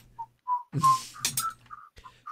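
A person whistles a tune in short, clear melodic notes, close and moderately loud, broken by a few soft breaths and clicks.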